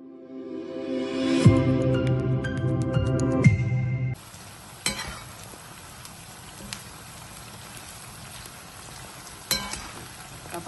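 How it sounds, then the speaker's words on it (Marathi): Onions fry for birista for chicken dum biryani with a continuous crackling sizzle. A clattering metallic stir or pan sound comes first, followed by quieter steady frying with occasional sharp pops. "हे कांदे मी ठेवलेत आता फ्राय व्हायला"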